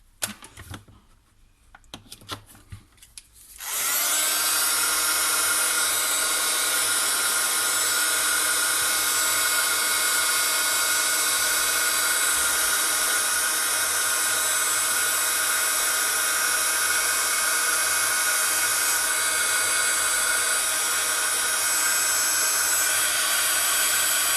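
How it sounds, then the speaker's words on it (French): A heat gun dries a stamp on an embroidered card. After a few seconds of quiet handling it starts up and keeps a loud, steady blowing whine going for the rest of the clip. "Donc je vais prendre le heat gun, une fois n'est pas coutume."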